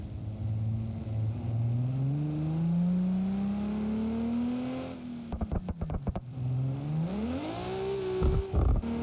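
A Supra's engine in the video game BeamNG.drive revs steadily upward in pitch, then drops with a few sharp gear-change stutters before climbing again, loud and close, exhaust volume turned down.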